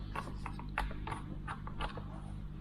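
Notched knob on a MIDI controller being twisted, giving a quick series of faint, close clicks as it steps through its detents.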